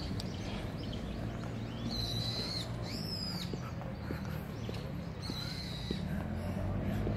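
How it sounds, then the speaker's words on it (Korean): Birds sing along a mountain path on the Kyung Hee University campus: a few high, clear chirps and short whistles come and go at moderate distance over a steady outdoor hiss. "새소리도 많이 들립니다."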